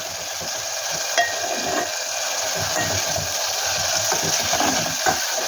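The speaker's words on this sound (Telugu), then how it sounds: "రొయ్యలను మంచిగా నూనెలో మంచిగా ఫ్రై చేయాలి" Dried prawns fry in hot oil with onions, giving a steady bright sizzle and a few soft stirring scrapes and knocks.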